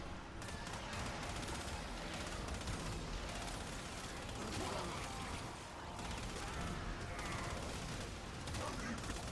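Rapid, dense gunfire from an invisible auto turret in Warframe rattles on continuously and loud, mixed with game effects and a voice talking over it.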